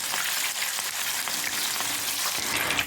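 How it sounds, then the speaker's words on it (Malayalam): Spicy beef kebabs deep-fry in hot oil over a high flame, a dense, even crackling sizzle that stays loud and close throughout with no voices. "അല്ലെങ്കിൽ ഹൈ ഫ്ലെയിമിൽ തന്നെ ഇട്ട് വേണം നമുക്കിത് ഫ്രൈ ചെയ്തെടുക്കാനായിട്ട്."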